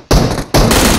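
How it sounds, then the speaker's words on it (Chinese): Gunfire in the video game PUBG Mobile: two loud bursts of shots, each starting abruptly and sustained, with a brief lull between them and no talk. "四处都有枪声啊！"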